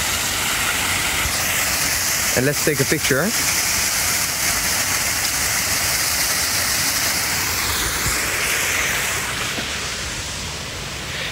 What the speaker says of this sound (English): So let's get closer to the water fountain.